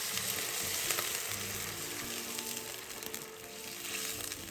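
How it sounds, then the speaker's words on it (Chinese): Hot water goes into a wok of mapo tofu sauce cooked with spicy doubanjiang, giving a continuous soft sizzle and bubbling that stays fairly faint and even throughout, with no talk. "再倒入热水200毫升。"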